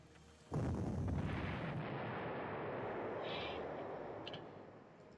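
Enemy artillery fire in the Panzer Corps wartime strategy game: one heavy boom bursts in and rolls on as a long rumbling decay, fading over several seconds with no talk.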